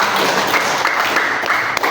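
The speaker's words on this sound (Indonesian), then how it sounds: "Kita kasih tepuk tangan" A classroom of students applauds together, a steady dense patter of clapping that fills the room at fairly high volume throughout, without a clear break.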